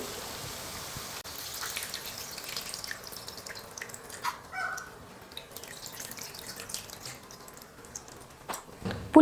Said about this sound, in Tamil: இப்போ புளி கரைசலாக சேர்த்துக்க போகிறேன்